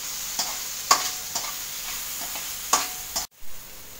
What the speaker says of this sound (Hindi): इसको भूनेंगे।